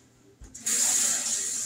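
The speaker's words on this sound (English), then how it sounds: "I think I put my spoon over at the sink. I did. Let me rinse it off." A spoon is rinsed under a kitchen sink tap: a faint clink, then water gushes on and runs in a steady close splashing stream.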